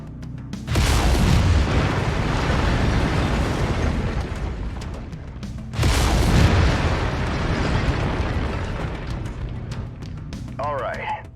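Mech lasers firing in MechWarrior 5: two heavy, booming blasts several seconds apart, each with a long rumbling tail that slowly fades. The sound is loud and close.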